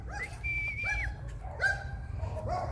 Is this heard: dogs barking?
yes